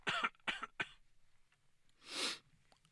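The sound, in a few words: cough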